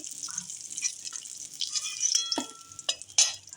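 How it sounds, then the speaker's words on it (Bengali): Cut potatoes drop into hot oil in a pan and are stirred, giving soft sizzling, scraping and clinking of a utensil against the pan, quiet and close, with no talking. "ওই তেলের মধ্যে আমি কেটে রাখা আলুগুলো দিয়ে দিলাম। আলুগুলো এইভাবে নাড়তে থাকবো"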